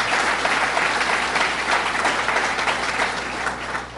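A crowd applauds Mayor Stephanie Miner at a governor's budget tour event in Syracuse: dense, steady clapping from a large audience for a few seconds, fading slightly at the end.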